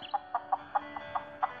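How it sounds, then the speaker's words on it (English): A chicken in the video game John Deere Drive Green clucks in a quick, even series of about seven short clucks, moderately loud over a steady background tone. "we got a chicken."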